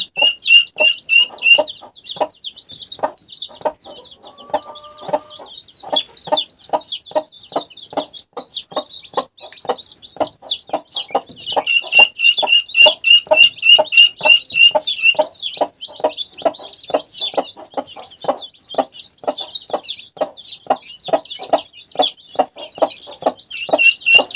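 A brooding hen clucks steadily in a rapid, continuous rhythm while chicks and guinea fowl keets peep with high, thin chirps throughout, close by and fairly loud.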